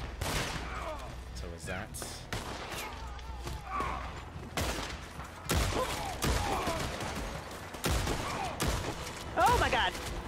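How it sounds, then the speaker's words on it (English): Gunfire from enemies in a Red Dead Online co-op bounty shootout, repeated sharp shots and bursts, some close and loud, others farther off, with players talking over the fighting. "they're just shooting now"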